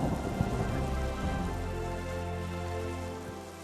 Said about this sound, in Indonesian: hujannya makin deras banget